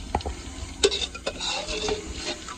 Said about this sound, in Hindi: सबसे पहले घी ऐड करते हैं जी कढ़ाई में